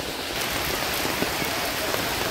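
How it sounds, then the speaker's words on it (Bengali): Heavy rain pours down in a dense, even hiss of drops drumming on surfaces, loud and close throughout, with no voices. "মুষলধারে বৃষ্টি নেমেছে, কি অবস্থা।"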